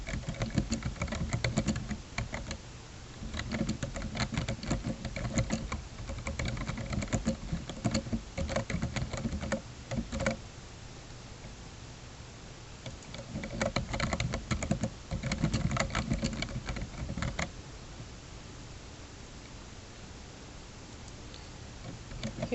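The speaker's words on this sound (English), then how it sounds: "type my question title here" Computer keyboard keys clatter in steady, quick runs while a question title is entered into a Google Docs form, with brief pauses between bursts of typing, close and moderately loud, with no voices.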